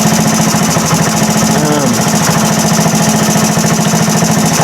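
A 1978 Indian moped engine runs at a steady, rapid putter, a buzzy small two-stroke drone that stays loud and close throughout.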